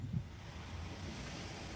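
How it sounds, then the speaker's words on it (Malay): A beach ocean-waves sound effect from GarageBand plays as a steady, broad wash of surf noise, close and continuous with no distinct breaks. "Ini suara pantai,"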